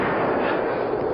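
Gunfire crackles in a dry desert setting, a dense burst of shots at close to mid range filling the moment without talk.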